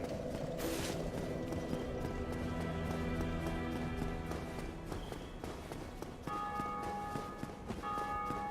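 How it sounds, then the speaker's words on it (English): A bell in Dark Souls Remastered rings repeatedly amid dense game audio, with sustained tonal strikes and clatter, including steady ringing tones that persist through the final seconds. "That bell is just going to be going off like crazy for a while"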